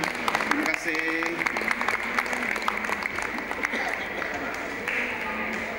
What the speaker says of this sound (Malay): Sila berikan tepukan.